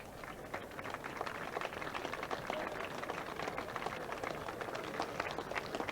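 Audience applause at the 1997 Tote Gold Trophy race presentation, a steady wash of many hands clapping throughout, moderately distant and even, with no talk over it.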